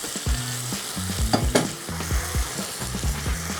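Gnocchi sizzle in a frying pan with zucchini and capers while a utensil stirs them in quick, rhythmic scraping strokes, up close and without talk.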